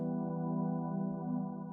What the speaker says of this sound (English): So this Electra pad sounds like this.